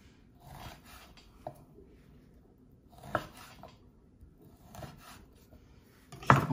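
Knife slices green pepper on a cutting board in a few faint, scattered bursts of chopping and scraping, quiet and close, with pauses between strokes.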